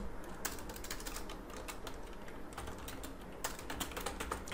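Rapid typing on a computer keyboard, with irregular clusters of light key clicks and brief pauses, close and steady with no talking.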